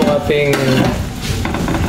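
Broth for a fish soup boils hard in a pot, giving a loud, close, crackling bubble and sizzle, with a brief clink of a utensil against the pot near the start.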